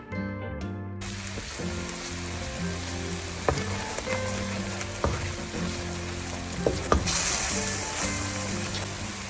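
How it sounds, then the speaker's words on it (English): Pureed tomato sizzles in frying masala for a Goan prawn curry, a steady crackling hiss with occasional sharper pops and spatters, close and continuous under soft background music. "I'm going to add 2 tablespoons of pureed tomato"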